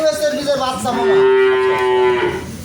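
One Holstein Friesian cow on a farm moos loudly and close up, a long drawn-out low call lasting a couple of seconds.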